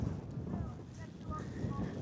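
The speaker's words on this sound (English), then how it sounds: "Very windy." Strong wind buffets the microphone with a constant low rumble at Castle Hill and Victoria Tower, and faint voices or tones drift through the gusts.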